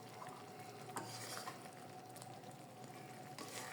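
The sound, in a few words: butter sizzling as homemade ghee separates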